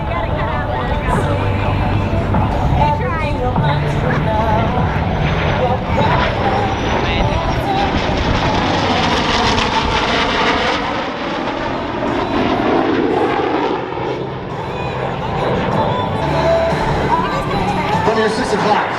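An airplane makes a photo pass at the Tampa Bay AirFest at MacDill Air Force Base. The engine roar is loud and sustained and shifts in pitch as it passes, with a crowd and an announcer talking underneath.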